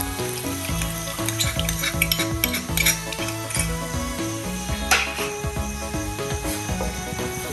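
Cornflour slurry cooking over full flame, a loud continuous sizzle and bubbling with clinks and scrapes of a spoon or pan throughout, no voices.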